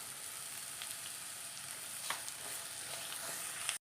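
Crushed ginger and garlic sautéing in a pan while noodles are being made, giving a steady close sizzle with a few faint scrapes of stirring, with no voices.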